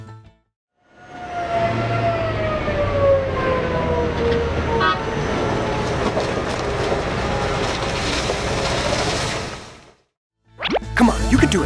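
A toy fire truck gives off a loud continuous siren that holds steadily for about nine seconds and then cuts off, followed by a short burst of toy noise.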